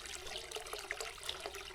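Water running from a little solar pump into a shallow pond well on a homestead, a soft, continuous trickle and splash, faint and close, with no voices.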